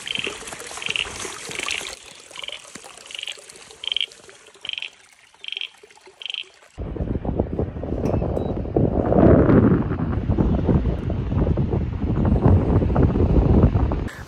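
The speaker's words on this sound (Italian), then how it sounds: "si sente solo il rumore del vento, l'oceano che si infrange sulla scogliera e ogni tanto qualche animale" Wind gusting along a clifftop forest trail in Tasmania, with ocean waves breaking on the cliffs below, a steady loud roar that swells into a continuous rushing wash after a stretch of rhythmic background noise.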